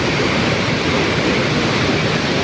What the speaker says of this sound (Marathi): पाण्याचा फोर्स बघा किती वाढला.